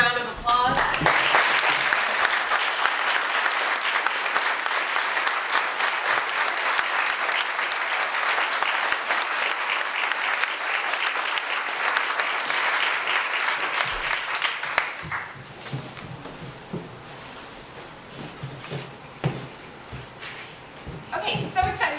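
Sustained audience applause for a community panel at a Savannah gathering, a dense, loud roar of many hands lasting about fifteen seconds before thinning out into scattered claps, with murmured voices underneath.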